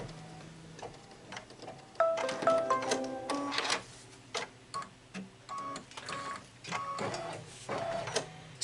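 A Kimberbell embroidery machine stitches a tack-down line on a cozy wall hanging project, a busy, steady mechanical whirring and ticking with rhythmic needle taps that runs throughout, fairly close and unaccompanied by speech.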